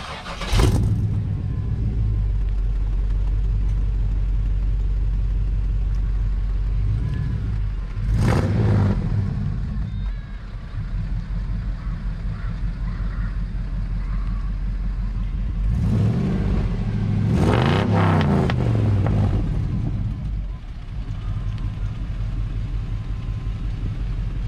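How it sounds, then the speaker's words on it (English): A V8-swapped Willys Wagon idles with a deep, steady rumble and is revved three times, each blip rising sharply and falling back to idle, close and without talk. "I know that a lot of these people are waiting for us to fire it up and drive it"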